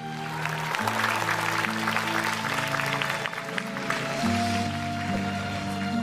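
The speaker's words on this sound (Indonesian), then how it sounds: "Boleh tepuk tangan untuk Najah." Steady applause from an audience fills the space while music plays underneath.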